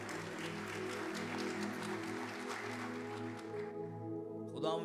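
An audience applauds to welcome a pastor at a church gathering, a moderately loud clatter of clapping over a sustained musical tone that drops away near the end.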